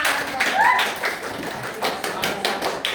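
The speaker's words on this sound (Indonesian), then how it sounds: "Kita kasih tepuk tangan dulu buat kelompoknya" A class in a school lesson claps for a group of students presenting their answers, scattered taps and claps rising and thinning over a few seconds, with voices mixed in.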